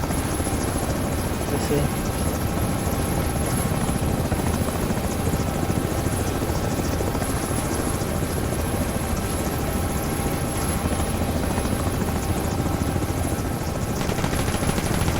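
An H-60 Black Hawk helicopter flies in the video game ArmA 3, a constant loud rotor drone with a high whine, with someone speaking briefly over it.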